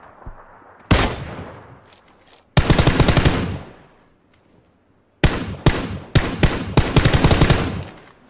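Bursts of automatic gunfire from players in PUBG, three loud sustained volleys separated by brief pauses, the last broken into several rapid strings of shots, with no talk over them.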